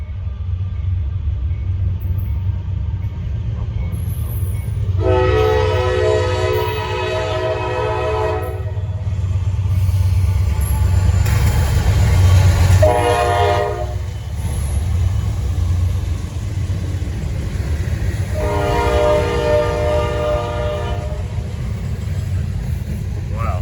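A Norfolk Southern freight train rumbles past continuously near Broad River while its horn sounds in several long blasts, loud and near, with gaps between them.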